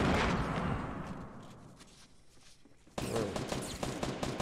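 Fortnite gunfire: a loud burst of shots that rings out and decays, then a fresh volley of rapid, closely spaced shots erupts and keeps going.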